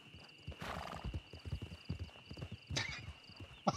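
A horse in a Yellowstone roleplay video game whinnies loudly and clip-clops along at a steady walk, with a couple of sharper neighs and a bright burst near the end.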